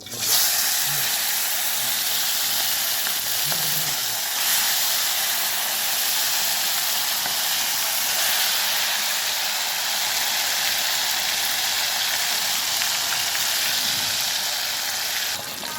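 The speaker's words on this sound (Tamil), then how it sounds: "எண்ணெய் ஊற்றியாச்சு. மீன் பொரிக்க வேண்டியதான்." Banana fish frying in oil gives a steady, loud, close hiss and crackle that carries on unbroken for the whole stretch, with no voices.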